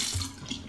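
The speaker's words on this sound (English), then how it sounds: "Let's rinse." Running water from a tap rinses shaving cream away during a face shave, a brief, soft, close splashing gush.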